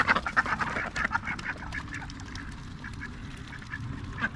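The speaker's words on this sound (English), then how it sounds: "Quack attack." A duck named Daffy out in a field quacks in a quick run of short, nasal bursts, then sounds fainter and more scattered over a constant background hiss.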